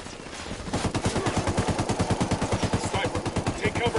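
Rapid automatic gunfire in a PS4 game, a loud sustained burst of evenly spaced shots that starts just after a short lead-in and continues without pause to the end.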